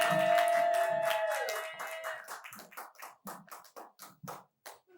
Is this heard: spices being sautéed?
no